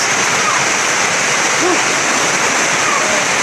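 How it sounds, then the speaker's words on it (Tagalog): Dense, steady roar of heavy rain from a typhoon pouring down, loud and constant throughout, with a faint voice briefly audible beneath it. "Malakas pa yung ulan mga idol, malakas."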